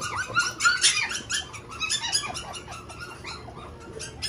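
Teacup Pomeranian puppies around three months old squeak and yelp in rapid, overlapping high-pitched bursts close by, with a few short whines mixed in.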